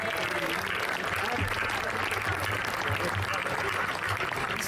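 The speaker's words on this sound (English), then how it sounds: "all the Board of Ambassadors for this year to stand up and give them a" Applause at a charity event called Hope @ Home as the year's Board of Ambassadors stands, dense steady clapping from a crowd throughout, with some talk mixed in underneath.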